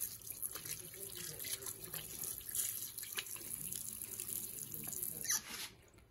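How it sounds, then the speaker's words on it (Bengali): Hands being washed under a running tap at a sink, a steady close splash of water that lasts several seconds before cutting off near the end. "এখানে একটু হাতটা ধুয়ে নিই।"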